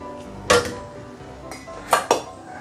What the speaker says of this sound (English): So I put in the pork, the carrot, the big onion.